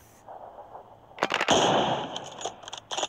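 A few sharp video-game gunshots aimed at a vehicle tire crack in a short burst after a quiet lead-in, followed by scattered echoing shots.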